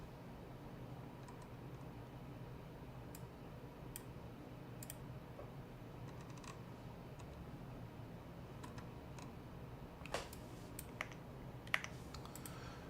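Typing on a Bubble 75 mechanical keyboard, a steady close run of light clicking keystrokes with a few sharper, louder key hits near the end, over a low background hum and no talking.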